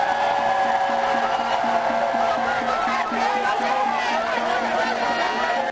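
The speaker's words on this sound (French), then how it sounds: "Un message qui a reçu un écho favorable dans la foule, qui a exprimé par une clameur son adhésion." A large crowd at a political rally in the DRC clamours steadily in approval, a dense, continuous roar of many voices with shouting rising and falling over the whole stretch.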